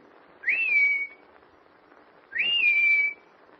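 Two sharp rising-then-level whistles, a person signalling, each about half a second long with a pause between, clear against a quiet background.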